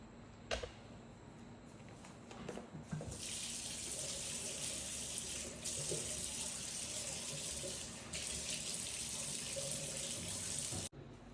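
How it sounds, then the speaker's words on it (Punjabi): Tap water runs steadily into a sink as a face is washed, a loud continuous hiss with brief splashes and handling noises, stopping and restarting partway through before cutting off near the end. "ਫਿਰ ਹੁਣ ਮੈਂ ਫੇਸ ਆਪਣਾ ਕਰ ਲਾਂ ਵਾਸ਼"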